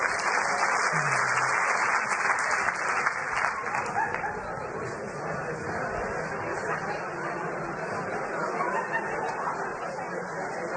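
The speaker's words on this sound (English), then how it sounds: "All right, round of applause." An audience at a branding talk gives a round of applause, a loud, dense and sustained wash of clapping with faint crowd murmur underneath, steady from start to finish.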